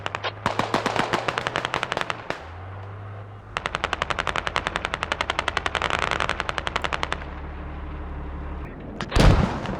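Rapid bursts of automatic gunfire crackle in a tactical shooter video game, with long rattling volleys separated by brief pauses, a steady low hum underneath and a heavy mortar-like boom near the end.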